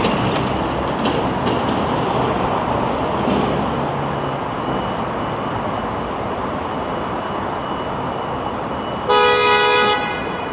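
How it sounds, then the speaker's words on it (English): Constant loud traffic roar from passing vehicles in Toronto's South Core near the Gardiner Expressway, with a short, sharp horn toot near the end. "You always hear lots of honking in the South Core."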